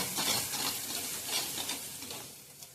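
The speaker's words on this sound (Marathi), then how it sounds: "चांगले तेलात मसाला भाजून घेऊया।" Masala of homemade red chilli powder and salt roasts in oil for a spicy mandeli fish curry, a soft, steady sizzle with faint crackles from stirring.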